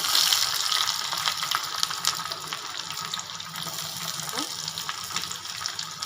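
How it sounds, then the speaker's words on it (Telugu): Onions frying in oil in a pan while cooking palakura spinach rice, a steady broadband sizzle with occasional stirring clinks, continuous and fairly close throughout. "ఇప్పుడు కొంచెం ఆనియన్స్ కూడా వేసేద్దాం"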